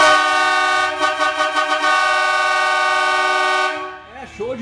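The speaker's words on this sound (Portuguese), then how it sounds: "Dois motor, duas cornetas de marítima, mais a verdureiro" Iveco truck sounding a double marine air horn with a verdureiro horn, a loud sustained blast with a brief pulsing stretch, cutting off before a voice speaks.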